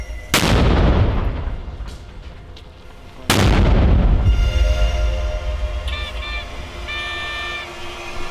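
Two heavy booming blasts of border-guard mortar fire, a few seconds apart, each followed by a rumbling echo and ringing tones, in Kherson region, Ukraine.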